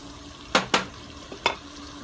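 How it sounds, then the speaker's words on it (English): A spoon stirs a pot of arroz con gandules with olives. There are a few sharp scrapes and clacks against the pot over a low, steady sizzle, close and fairly loud. "Give that a stir."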